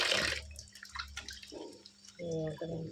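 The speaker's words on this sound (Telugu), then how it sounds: "ఇప్పుడు చేపలు కడుక్కుంటున్నాను. ఇవి బాగా వాటర్ వేసి ఇలా కడుక్కోవాలి." Small fish are rinsed in water in a kitchen, with dripping splashes and short bursts of pouring water, close and fairly quiet.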